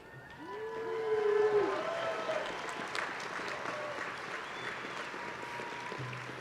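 Crowd of graduates applauding and cheering at a Georgia Tech master's commencement ceremony, a loud swell of clapping and shouts that peaks early and then holds steady, filling a large hall.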